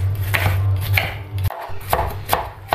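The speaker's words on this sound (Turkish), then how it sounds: "En son kırmızı biberlerimizi aynı şekilde dilmeye devam ediyoruz." A knife chopping red peppers on a board, quick close cuts in uneven bursts with a brief pause midway, sharp and clear with no talk.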